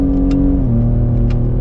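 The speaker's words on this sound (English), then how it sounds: "Let's get a drift here." A bright orange Ford Raptor truck revs hard while drifting off-road, its loud, close engine holding a steady drone that drops slightly in pitch partway through, with a couple of brief gritty bursts on top.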